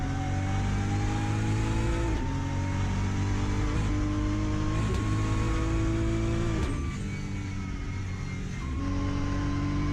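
BMW race car in Assetto Corsa during a Nürburgring 24-hour race, its engine droning loud and close with rising pitch through the gears, a few shift breaks and a brief lift, no voices.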